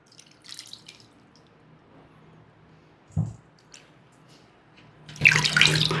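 Water from a tap splashing while raw mangoes are rinsed for pickle, heard as faint drips and small splashes, then a louder burst of running, splashing water near the end, with a soft knock in between.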